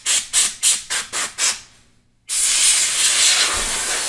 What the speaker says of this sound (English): what I like to do is hit with a little compressed air to remove any kind of residue